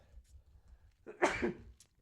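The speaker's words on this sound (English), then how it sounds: "I'm going to sneeze." A single sharp sneeze, close and fairly quiet, preceded by a short intake of breath against a faint background hum.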